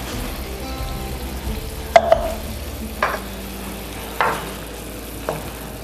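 Spoon stirring vegetable broth in a pan on the stove, a few scattered clinks and scrapes over a low background simmer, close and fairly faint.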